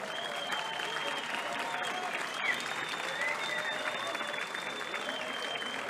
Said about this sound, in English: Ladies and gentlemen, round of applause for No Limits